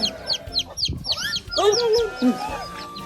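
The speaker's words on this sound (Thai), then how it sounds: "เป็นลูกเจี๊ยบเลย" Several high, rapid chirps and soft clucking from a baby chick nearby on a farm in Phitsanulok, Thailand, with a brief human murmur mixed in.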